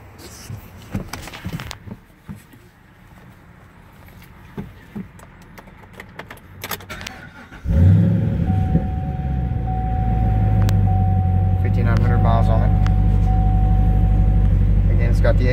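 A 2014 Camaro Z/28 engine cranks and fires around the midpoint, jumping into a loud, steady low rumble of a cold idle that holds to the end, after quieter handling noises and some talk beforehand.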